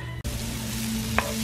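Ingredients sizzle and fry steadily in melted butter in a pan, a close, continuous crackle with a brief clink of a utensil partway through and no talking.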